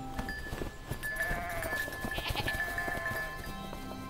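Goats bleating around a mountain village, a few bleats rising over a busy background of other sounds, with no clear talk.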